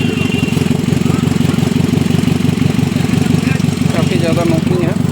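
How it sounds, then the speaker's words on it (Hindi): A Hyundai i10 with a burst silencer idles close by, its rough engine knocking in a fast, even, rattling pulse, with voices talking over it. "इसमें साइलेंसर फटा हुआ है और इंजन नॉकिंग है"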